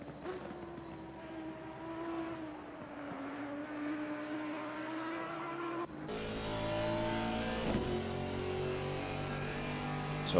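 Ferrari GT race car engine in Assetto Corsa Competizione at Brands Hatch, a steady droning tone that shifts pitch, jumps louder about midway as revs rise, and holds a strong harmonic whine to the end, with no talk over it.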